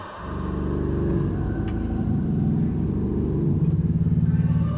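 Deep, sustained low notes from the huge pipes of the York Minster pipe organ, a steady rumbling drone that swells slightly and holds loud throughout, with no voices.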